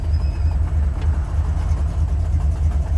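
A Buick 455 Stage-1 Regal-T with a busted exhaust header gasket rumbles steadily at idle, its deep, loud engine note pulsing continuously without a break.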